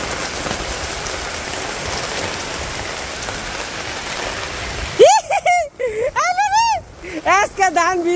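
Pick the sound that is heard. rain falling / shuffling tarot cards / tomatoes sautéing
rain falling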